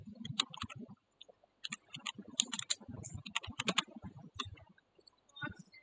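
Someone types on a computer keyboard in a classroom, with irregular bursts of close, crisp key clicks and a few short pauses, fairly quiet and with no talk.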